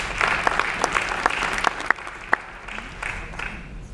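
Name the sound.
audience applauding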